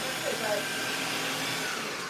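A food processor runs steadily, chopping celery, onions, garlic and carrots for a Thanksgiving stuffing mix. The motor whirs in one continuous, fairly loud drone with no break, and a faint voice can be heard underneath.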